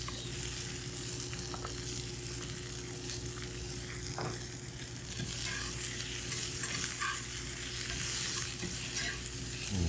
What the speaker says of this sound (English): And toss this around for a little bit.